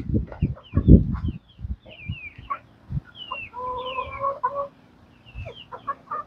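Chickens cluck and squawk close by on a farm, in short irregular bursts with a few higher calls, loud at first, then sparser.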